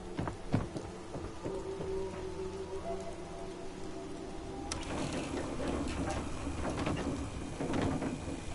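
Continuous rain pours with thunder in the Fallout 4 video game, a distant rumble early and a louder crack midway that thickens the downpour, with no speech over it.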